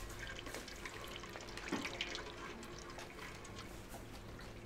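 Steady running water flows inside the video game Stray, a soft continuous wash with a brief louder gurgle near the middle, heard on its own without talk.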